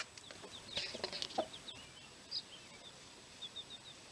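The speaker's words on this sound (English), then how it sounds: "She scratches the floor, clucking an invitation to eat." A hen on a farm scratches the floor and gives soft, scattered clucks to her chicks, a few faint short calls spread across a quiet background.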